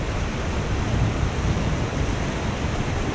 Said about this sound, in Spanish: Acá es el río.